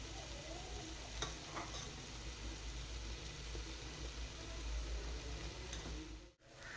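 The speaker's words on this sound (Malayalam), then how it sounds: "എല്ലാം നന്നായിട്ട് ഫ്രൈ ആയി വന്നിട്ടുണ്ട്." Crushed chilies and chili powder fry in a pan for prawn roast, giving a faint, steady sizzle with soft stirring sounds and no voices.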